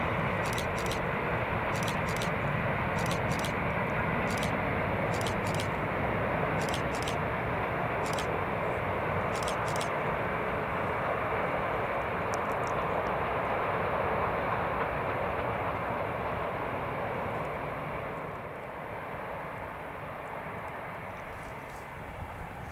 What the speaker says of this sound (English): Now on the main Geelong line, the train rockets through Little River.